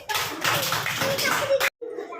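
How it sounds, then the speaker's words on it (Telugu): Schoolchildren in a classroom clapping together during a number-reading activity, a short dense burst of applause that stops abruptly, then a voice speaks. "Very good. క్లాప్స్ కొట్టండి."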